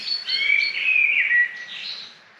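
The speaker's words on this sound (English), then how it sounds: "To wake up to that bird song," Wild birds singing at a campsite in the morning, a bright run of clear chirps and warbled phrases up close against near silence, tapering off at the end, no voices.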